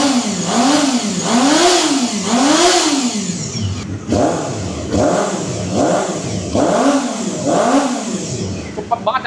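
A 250cc motorcycle engine revs hard and high in repeated rising-and-falling bursts, about five or six loud, close sweeps, with one brief cut between them.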